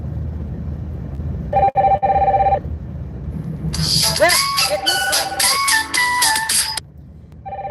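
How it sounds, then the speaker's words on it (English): A phone notification ringtone plays a bright, melodic run of tones at close range, loud and clear for about three seconds, after a brief earlier tone burst, with a voice speaking lightly beneath it. "that is my notification"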